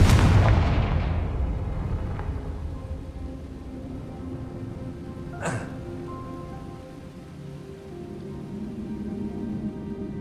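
A Confringo blasting spell is cast in the Hogwarts Legacy video game, a heavy booming burst that rumbles and fades over a second or two, followed later by a single sharp crack over a low, steady ambient background.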